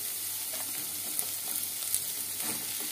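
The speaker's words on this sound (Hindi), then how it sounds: "इसको भी थोड़ी देर के लिए भून लेते हैं" Beans and carrots stir-fry in a pan with ginger and onion for vegetable spring roll filling, giving a steady soft sizzle broken by a few light scrapes and clicks of the stirring spoon, close and alone with no voices.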